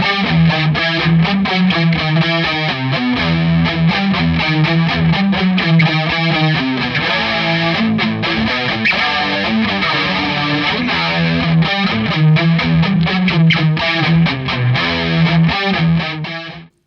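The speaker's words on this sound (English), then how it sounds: "I could use the chorus with the drive sounds" Electric guitar running through Behringer chorus and drive pedals gives a dense, distorted, shimmering tone with busy, continuous rhythmic picking, loud and close, with no voices.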